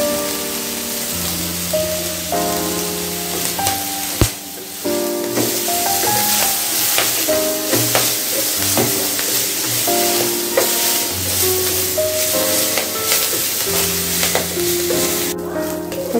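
Pirandai (adamant creeper) sautéing in a pan with tamarind for chutney, a steady sizzle and occasional stirring scrapes running beneath melodic background music, with no talking.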